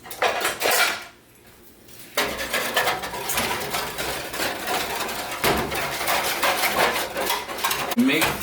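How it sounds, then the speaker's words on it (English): A whisk scrapes and clatters briskly against a metal pot of turkey gravy, in rapid rhythmic stirring close by, with a brief quiet pause early on before the metallic clinking resumes. "I'm going to switch to my whisk now."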